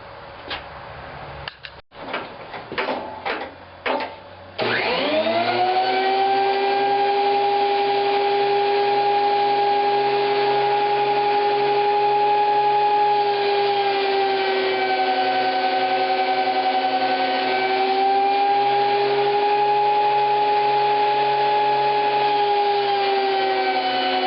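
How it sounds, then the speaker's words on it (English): A thickness planer feeds a wood board down to 3/4 inch, a few sharp clacks and knocks before the machine roars up into a loud, steady motor hum with a strong whine that holds for about twenty seconds, alone without speech. "let's get it planed down to 3/4 inch"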